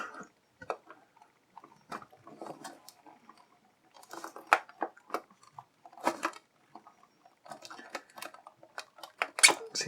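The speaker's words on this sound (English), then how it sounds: "let's go ahead and open this thing up and free Cobra Commander" Cobra Commander action figure from GI Joe Rise of Cobra being freed from its retail packaging: scattered crinkles, tearing and snaps of plastic and cardboard, close and fairly quiet, in short irregular bursts with pauses and a few sharper cracks near the end.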